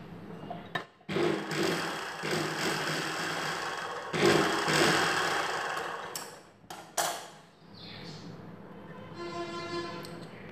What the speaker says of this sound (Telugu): ఈ పై వైపున ఒక కుట్టు వేసుకోవాలి